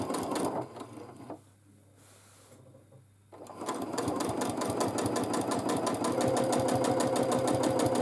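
Sewing machine stitching a shallow wavy line in free motion quilting, its fast, steady needle clatter starting after a brief lull and running continuously at medium-high speed, close and loud.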